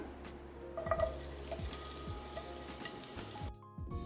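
Minced garlic sizzles in oil in a pan for a pizza sauce: a close, even hiss with scattered crackles and spits, dropping out briefly near the end before resuming.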